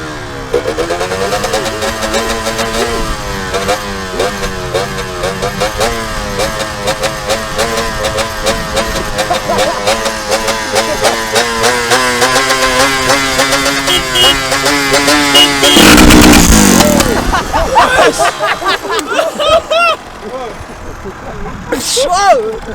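A motorcycle engine in second gear during a wheelie gives a loud, continuous, rising drone with one sharp surge near the end, under someone speaking French throughout.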